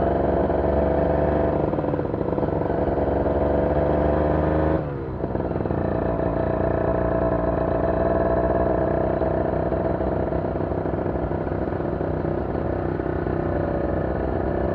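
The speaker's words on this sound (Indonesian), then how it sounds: "Mesinnya mesin khas 2 tak." A 2012 Kawasaki Ninja R two-stroke motorcycle engine runs while being ridden, giving a steady, close, buzzing drone throughout with one brief dip in level partway through.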